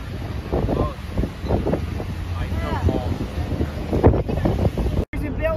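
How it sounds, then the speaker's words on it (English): Strong wind buffets the microphone outdoors on a New York waterfront, a loud continuous rumbling roar under voices talking, with a brief dropout near the end. "It is windy. It is extremely windy. It is very windy."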